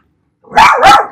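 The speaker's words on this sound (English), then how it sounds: "I apologize, my dog is barking." A dog gives two quick, loud, close barks in a quiet indoor room, with nothing else heard.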